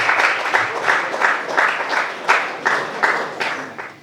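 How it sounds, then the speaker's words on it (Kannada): Loud applause from an audience at a Karnataka school's Women's Day programme as the primary schoolchildren are called to the stage, clapped in a strong, regular rhythm of repeated bursts throughout. "ಜೋರಾದ ಚಪ್ಪಾಳೆ."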